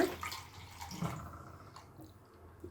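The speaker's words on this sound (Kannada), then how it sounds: "ಇದಕ್ಕೆ ಸ್ವಲ್ಪ ನೀರು ಸೇರಿಸ್ಕೊಳ್ಳೋಣ." Water poured into a bowl of curd while making curd rice, a short splashing pour that is loudest at the start and tapers into a soft trickle, heard close and alone.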